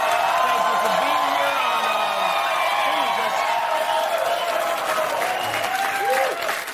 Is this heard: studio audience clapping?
yes